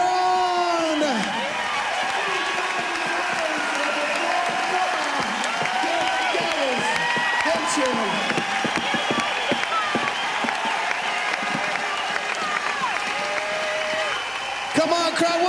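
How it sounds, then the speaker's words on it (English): A large crowd at a girls' skateboarding contest applauds and cheers loudly and continuously for the winner, with whoops and shouting voices mixed into the sustained clapping. "Come on, crowd, one more time. Let's hear it for the winner, Amy Caron."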